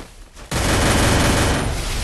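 Dense automatic gunfire in a multiplayer shooter video game, a shotgun and MP5 in play, bursts in abruptly after a quiet half second and continues as a loud, sustained rattle of shots.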